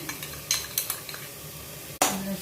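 Vegetable fried rice with garlic stirred over a high flame, a spatula scraping and clinking against the pan in several sharp strokes above a steady sizzle, close and alone.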